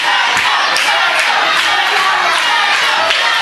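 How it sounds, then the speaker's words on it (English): Wrestling event crowd at a Legacy 2010 show yelling and chanting for a wrestler, a loud, dense wall of voices sustained throughout with rough surges of shouting. "Crowd now yelling for Johnny Psycho"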